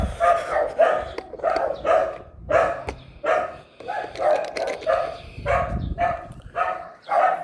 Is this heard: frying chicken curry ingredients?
no